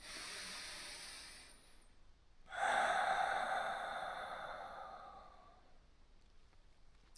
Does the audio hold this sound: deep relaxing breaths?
yes